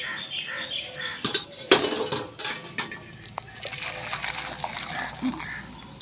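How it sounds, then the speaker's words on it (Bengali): Hot water poured into a large bowl in a home kitchen while making dahi vada, a brief splash and clatter of vessels near the mic, followed by softer handling sounds with a voice talking throughout. "আর এই গামলাতেই আমি গরম জলটাকে ঢেলে নেব।"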